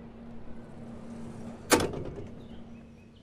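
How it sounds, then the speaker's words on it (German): Subway train doors open in the SubwaySim Hamburg video game, a single sharp mechanical clack and hiss that fades out over a low steady hum, moderately close. "Tür auf."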